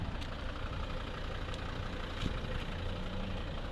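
A 2012 Volvo V60 2.0 D3 diesel engine idles steadily at low volume, a constant rumbling hum with no speech.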